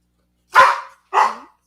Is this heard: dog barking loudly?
yes